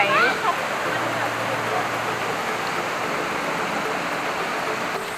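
Stream water flowing down from Jet Khot waterfall in Saraburi, Thailand, a steady close rush and splash that continues without a break for the whole stretch.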